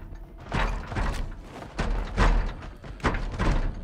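Repeated heavy banging on a door in the zombie survival game Project Zomboid, four loud thumping impacts at an uneven rhythm, each with a rattling mechanical tail, heard alone without talk.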